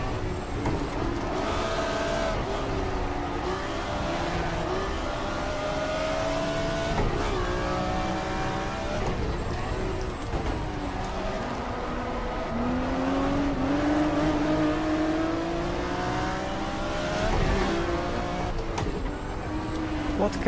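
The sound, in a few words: car engine revving in GTR2 racing video game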